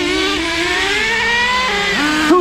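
An HPI Savage RC truck's small nitro engine screams close and loud, holding a high buzzing whine whose pitch glides down and then jumps back up as it pulls.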